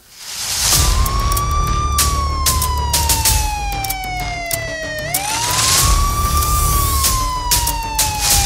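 Police sirens wail loud and close, sweeping up and down in a long continuous tone over a low engine rumble.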